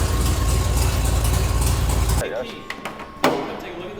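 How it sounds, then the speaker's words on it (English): A car missing its catalytic converter and the whole downpipe idles with a loud, deep rumble that stops abruptly halfway through, followed by a few faint clicks and knocks. "the reason why she's as loud as she is right now is because she's missing the Cadillac converter and the whole downpipe"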